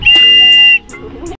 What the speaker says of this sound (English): And then blow your whistle if you're ready.